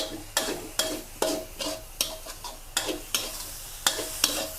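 Galangal chili paste stir-roasted in a pan with tamarind, salt and sugar, a regular series of scraping spatula strokes about every half second over a soft sizzle, close and clear.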